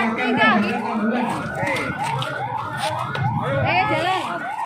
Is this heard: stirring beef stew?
no